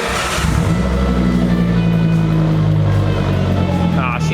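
A 2004 Volvo V70R engine revs through a catted straight pipe with no muffler, a loud, steady droning exhaust tone held close up, with a voice talking over it.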